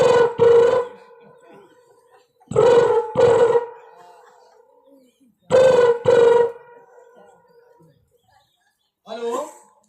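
A telephone rings in a repeating double-ring pattern, heard three times at regular intervals, each pair loud and close. A voice follows briefly at the end.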